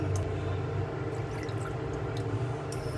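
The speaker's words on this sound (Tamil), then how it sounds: "இப்போ இதில் நம்ம முதல்ல புளி தண்ணியை கொட்டிடலாம்" Tamarind water poured into a pan on the stove for ginger rasam gives a steady, soft liquid splash and trickle throughout, with a few faint drips and no talking.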